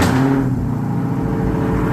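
A Dodge Challenger's engine runs with a loud, steady low rumble, close by and continuous with no talking.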